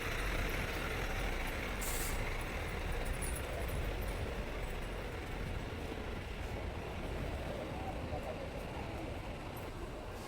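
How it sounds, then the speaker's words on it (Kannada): KSRTC Airavat Club Class bus idling at Hassan bus stand, a steady low diesel rumble with a brief hiss like an air brake near the start, amid continuous busy station noise and faint voices. "ನೆಕ್ಸ್ಟ್ ಗಾಡಿ ನೋಡ್ತಾ ಇರೋದು ಐರಾವತ್ ಕ್ಲಬ್ ಕ್ಲಾಸ್ ಗಾಡಿ"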